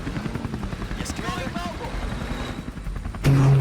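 Helicopters in the real-time strategy game Battlefall: State of Conflict give a continuous whirring rotor drone under in-game unit voice lines, with a louder burst near the end.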